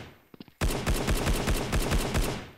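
A few quick pops are followed by a rapid burst of loud, evenly spaced pistol shots in a video game, firing in quick rhythm, close and punchy.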